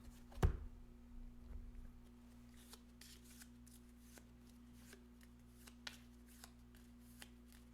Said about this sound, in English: Going to shuffle the cards and lose one at random